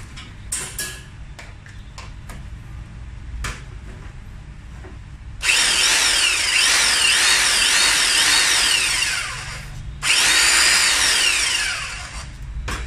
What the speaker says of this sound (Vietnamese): Để anh em nghe được cái tiếng máy chạy rất là êm ha, cực kỳ êm luôn